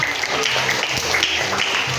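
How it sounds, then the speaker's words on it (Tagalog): Children at a classroom birthday party clap together in a dense, steady burst of applause, loud and close, lasting a couple of seconds. "Isang malakas na palakpak."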